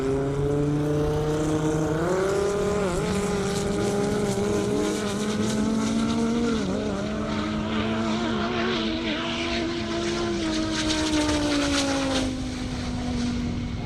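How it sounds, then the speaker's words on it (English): A Vengeance Racing Viper drag car launches down an Indiana half-mile airport drag strip. The engine roars loud and continuous, its harmonic howl climbing and wavering as it accelerates hard, with no talking. "But let's see what Ned Dunphy can do in the Vengeance Racing Viper."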